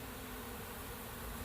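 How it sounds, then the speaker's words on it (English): Honey bees swarm thickly over a frame pulled from a hive during a nuc split, a steady faint hum of many wings with no break from start to end. "probably a pound of bees on that frame"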